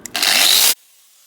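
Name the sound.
power tool grinding with fibre discs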